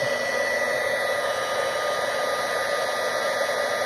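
Heat tool blowing hot air onto a clipboard, a steady close whirring fan with an even airy rush and no pauses or voices.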